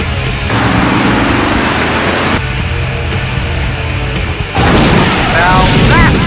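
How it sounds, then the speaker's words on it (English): Explosion in the video game Full Throttle: a loud, sustained booming roar with rumbling debris, cutting off and swelling again into a second blast, with crackling and faint squeals near the end. "Now that's an explosion,"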